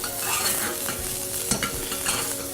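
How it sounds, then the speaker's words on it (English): Red onions sauteing in a pan, a continuous close sizzle with soft scraping and stirring strokes throughout and a brief sharper clack near the middle, with no voices. "we're gonna be sauteing them to a very good golden brown"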